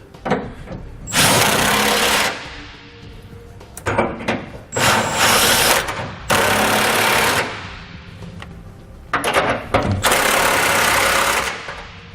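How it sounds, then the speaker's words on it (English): A power tool with a 19mm socket runs down flange nuts that secure B and W base rails to frame brackets on a 2014 Ram 2500, in loud whirring bursts of one to two seconds separated by short pauses and clanks. "I'm going to come back with a 19mm or a 3/4 inch socket, and I'm going to tighten up all the flange nuts"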